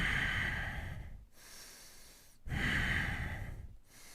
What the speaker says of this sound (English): Take your breaths.